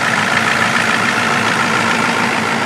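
A 1994 Ford F250 diesel pickup idles nearby with a constant, even rumble and clatter that does not change throughout.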